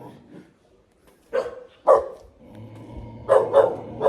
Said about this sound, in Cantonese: 呢度有隻惡狗啊！